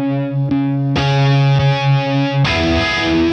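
A TC Electronic Viscous Vibe guitar effect pedal, a Uni-Vibe style modulation, colours loud, sustained, distorted electric guitar chords with a throbbing, swirling warble, changing chords a few times.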